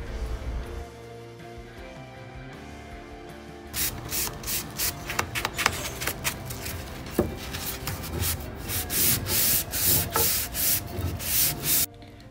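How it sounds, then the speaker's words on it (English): Wood picture frame corners rubbed down with a sanding sponge, a steady scratchy rasping in rapid back-and-forth strokes that grows louder and more rhythmic partway through, close up with no talk. "I used a sanding sponge and just cleaned it all up"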